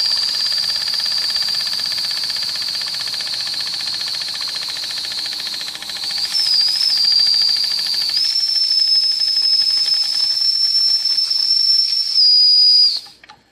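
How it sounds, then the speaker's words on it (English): A small D5 model steam engine sounds its whistle as one long, shrill, unbroken tone, joined by a steady steam hiss. Both are close and loud and last several seconds before cutting off sharply. "you can use the whistle sort of as a throttle if you don't mind the noise"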